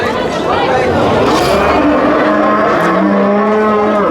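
Cattle mooing at a livestock market in Uzbekistan's Sirdaryo region: a long, loud, drawn-out low moo close by, with crowd chatter and people talking around it.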